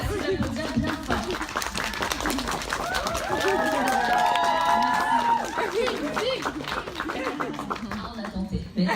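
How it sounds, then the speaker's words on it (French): Fan meeting audience applauding loudly, dense clapping mixed with cheering, chatter and excited voices, continuous and close throughout, with people shouting and talking over it. "Merci d'applaudir bien fort."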